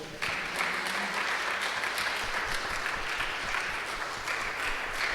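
A church congregation claps together in sustained, steady applause, a dense wash of many hands that keeps up evenly from start to finish with no voices standing out.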